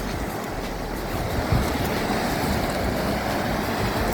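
Rough, rocky-shored sea surges behind Paphos Castle in Cyprus, a steady broadband roar of breaking waves mixed with wind buffeting the microphone, continuous and fairly loud with no voices.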